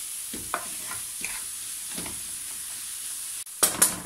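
Apple pieces with a few drops of lemon juice cook and caramelise in a pan, giving a steady low sizzle broken by soft occasional stirring scrapes, with a couple of louder clatters near the end.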